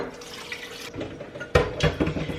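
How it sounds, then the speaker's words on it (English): Filtered water pours into crock pots packed with turkey bones, heard as a few short, close splashing gushes over a quiet kitchen background. "So now literally all I'm gonna do is just fill these up with water."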